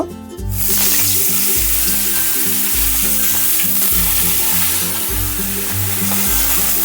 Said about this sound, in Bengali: তেলটা আমার খুব ভালো করে আমার গরম হয়ে গেছে এবার আমি ভোলা মাছগুলো ভেজে নেব